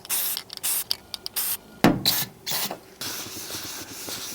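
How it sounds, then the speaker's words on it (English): Rust-Oleum paint and primer hisses from an aerosol can in short and longer bursts as it is sprayed onto a rusty spot on a van, close up with brief pauses between sprays. "I'm going to add a little Rust-Oleum paint and primer now."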